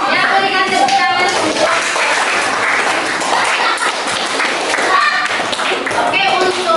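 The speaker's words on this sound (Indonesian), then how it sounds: "Ya, berikan tepuk tangan." Classroom audience clapping together for a student receiving a prize during an Indonesian school lesson, a dense, steady burst of many hands lasting several seconds, loud and close, with some children's voices mixed in.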